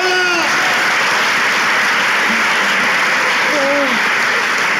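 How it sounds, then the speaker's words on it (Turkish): Studio audience applause on a Turkish relationship-test talk show, a steady dense wash of clapping throughout, loud and close, with brief voice-like tones on top. "Alkışlarla."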